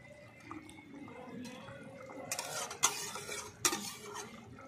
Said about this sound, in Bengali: দেখো মাছের ঝোল ফুটছে।